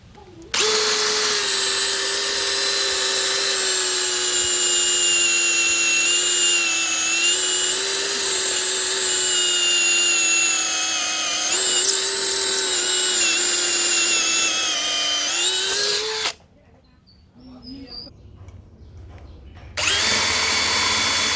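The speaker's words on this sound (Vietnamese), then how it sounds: "Và khoan ở rìa gạch này nó cũng không hề vỡ gạch luôn" A loud, steady whine of a brushless cordless drill boring into brick runs continuously for about sixteen seconds, briefly cuts out to near silence, then starts up again.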